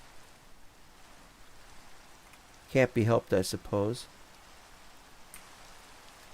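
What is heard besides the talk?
rain falling in a Lord of the Rings video game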